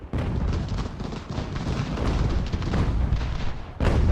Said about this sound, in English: There's like cannons shooting over their heads.